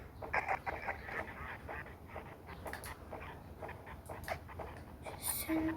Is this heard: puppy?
yes